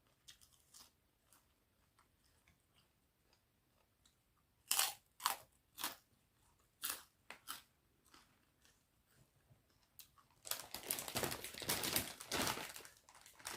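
Someone chews crunchy pork rinds up close, a series of sharp separate crunches followed by a longer stretch of dense, loud continuous crunching and munching.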